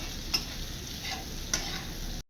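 Sliced potatoes fry in a home kitchen pan for poppy-seed potato curry, a soft steady sizzle with two brief stirring scrapes, no voices.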